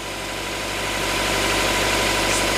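A Toyota Innova Reborn diesel engine runs close by with a rough, steady rumble that swells slightly louder, with no voices.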